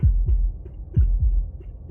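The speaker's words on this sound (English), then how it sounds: "That was the sound of a heartbeat, followed by another, and another." Deep, loud double-thump heartbeats pulse in a slow, steady rhythm, two beats at a time, as a sound effect in the video game Slay the Princess.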